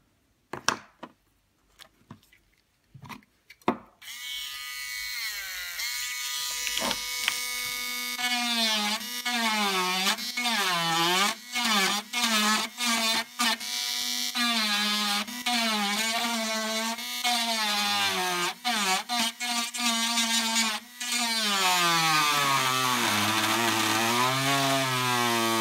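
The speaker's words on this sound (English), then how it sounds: "we'll need to drill a bit deeper to disconnect that one" A small high-pitched drill whirs steadily after a few clicks, its pitch dipping again and again as it bites into a DS1287 real-time clock chip, close and continuous.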